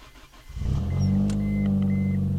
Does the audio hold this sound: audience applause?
no